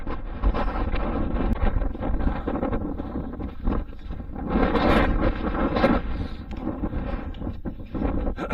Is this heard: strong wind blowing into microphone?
yes